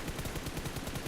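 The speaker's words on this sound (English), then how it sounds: "now they heard the gunshot from afar as well" Distant gunfire in PUBG Mobile during a competitive esports match, a rapid string of muffled shots in a dense, continuous burst.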